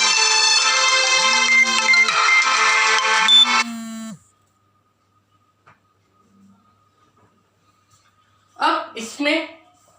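A phone ringtone interrupts a class 12 maths lesson on matrices, a loud melodic tone ringing for about four seconds before cutting off, followed by silence and then brief speech.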